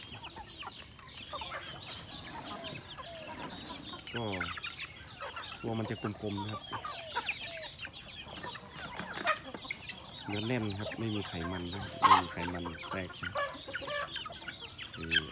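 Native Thai Kai Kum chickens, a cross with black-boned and village fowl, cluck repeatedly in a farm pen, with short bursts standing out, while someone talks steadily over them.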